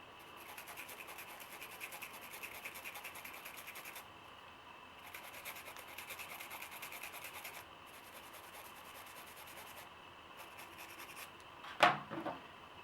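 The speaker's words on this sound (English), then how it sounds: "Take that cam pen, give it a good scrub as well." A brush scrubs a rifle cam pin with quiet, steady back-and-forth rubbing in short bursts, close and faint, ending in a sharp scrape or clack near the end.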